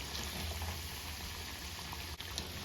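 Bengal gram vada (kadlebele vade) frying in a pan of hot oil on medium flame, a steady soft bubbling hiss that stays even throughout, close and without talk.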